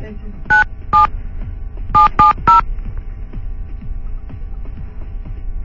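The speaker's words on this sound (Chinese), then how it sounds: "打给卡奴，看他到了铺子没" Telephone keypad tones sound as a number is dialled: two beeps, a pause, then a quick run of three more. The beeps are loud and clear over a quiet room hum.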